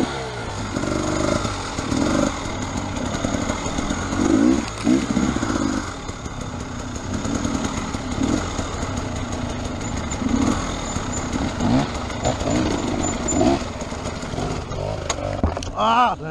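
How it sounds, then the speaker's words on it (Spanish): Enduro motorcycle engine on a trail ride, running rough and loud with irregular bursts before cutting out, close by, with brief voices over it. "Se me paró la moto con eso."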